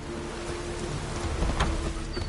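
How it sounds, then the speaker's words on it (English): Steady rain in the video game The Witcher 3: Wild Hunt hisses throughout, a dense wash of patter with a faint tonal hum beneath and a brief louder splash midway. "Raining again."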